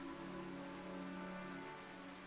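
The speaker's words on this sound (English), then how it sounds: "Because the rain is coming in." Steady rain falling in the video game RimWorld, a continuous dense hiss with no breaks, alone and fairly loud throughout, layered over a faint low tonal game hum.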